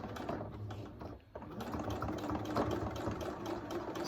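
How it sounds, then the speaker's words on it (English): A sewing machine stitching a lanyard runs steadily at close range with a rapid rhythmic whirring drone, dipping briefly for a moment before resuming at full speed. "And sew that all the way around."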